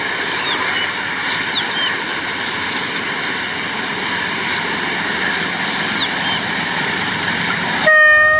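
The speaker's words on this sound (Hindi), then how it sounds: "HPU 20 लीड करके लेके आ रहा है 46 डाउन पाकिस्तान एक्सप्रेस को।" The Pakistan Express, led by an HPU locomotive at Mankiala railway station, passing close with a loud, continuous rumble and wheel noise, and a horn blast near the end.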